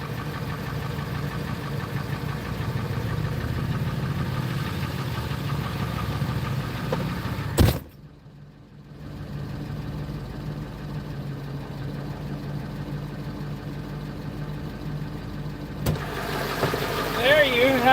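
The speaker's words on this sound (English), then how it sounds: "we got the F-350 running" A Ford F-350 pickup truck engine runs at a steady idle nearby, a low continuous rumble that cuts out briefly midway and then resumes, with someone talking over it.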